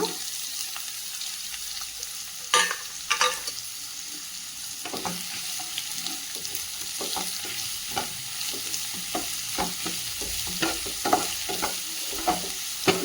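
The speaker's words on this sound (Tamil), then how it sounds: "வெங்காயம் நல்லா வதங்கி வரட்டும்." Chopped onions sizzle steadily in a pan over a home stove while a spoon scrapes and stirs them now and then, with sharp clinks standing out above the constant frying hiss.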